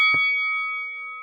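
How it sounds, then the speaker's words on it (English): A single bell struck once to open a Britpop podcast battle, a clear ding that rings on and slowly fades. "And ring the bell too."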